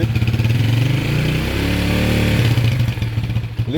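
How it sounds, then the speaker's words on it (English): A motorcycle engine revs up and holds at a steady higher pitch, then drops back to a rough, chugging idle, loud and close. "Go on now, rev it and hold it."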